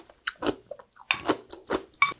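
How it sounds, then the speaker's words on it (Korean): Crunchy radish from dongchimi, a Korean radish water kimchi made with red mustard greens and aged two months, chewed close up in a few crisp, moist bites with short pauses between them and no talking. "지금 2달 됐는데도 무가 아삭아삭하니 너무 맛있어요."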